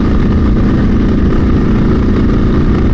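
A customised, modified motorcycle's engine runs steadily at close range, a loud continuous low rumble with no change in pitch and no voices.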